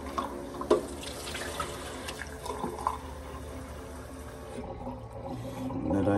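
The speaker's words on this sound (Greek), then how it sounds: "Νεράκι." Water runs steadily from a kitchen tap into a sink in the early morning, a continuous hiss and splash with a few clinks of dishes, fairly close and without talk.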